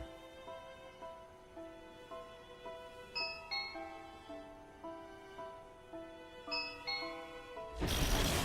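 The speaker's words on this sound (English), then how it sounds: "I had connected the doorbell to my gaming station." A soft electronic chime plays a short repeating tone melody, ringing several times at an even pace, followed by a sudden burst of noise.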